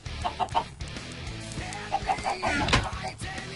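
Minecraft chickens give several close clucks in irregular bursts, with a denser flurry of clucking near the end over low game background noise.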